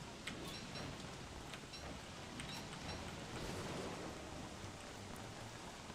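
Steady rain from a survival video game fills the whole stretch as a dense, even hiss with scattered light ticks of drops, no voices over it.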